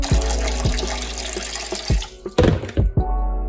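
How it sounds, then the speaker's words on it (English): Water pours noisily from a tap into a cooking pot, a steady splashing rush that stops and then resumes in short bursts with clunks and drips, heard close with no talk. "Adding water."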